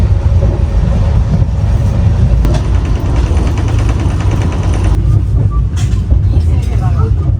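A Mumbai local train rumbles along with a loud, steady roar and faint rhythmic clatter, heard from inside a carriage.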